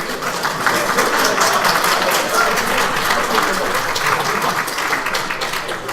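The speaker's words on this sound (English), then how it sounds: "Are you clapping for me or for the guy that asked the question?" Students in a university computer science lecture hall clapping together, a dense, steady round of applause at close range lasting the whole stretch.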